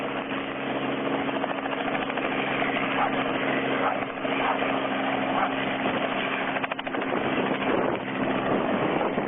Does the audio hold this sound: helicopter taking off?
yes